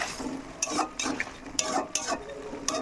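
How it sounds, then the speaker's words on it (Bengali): Small fried fish with potatoes stirred in a pan, a few separate scraping, clattering strokes of a utensil over a soft sizzle, close and alone. "এবার দিয়ে দেবো আমি ভেজে রাখা মাছটা, একটু নাড়াচাড়া করে নেব"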